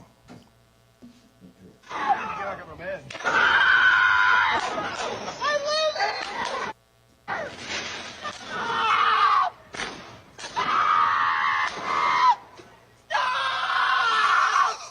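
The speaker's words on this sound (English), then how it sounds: "she's clutching the mailbox, screaming, "Stop! Stop!"" A woman screams while clutching a mailbox: loud, strained cries come in repeated bursts with short breaks between them, close and dominant throughout.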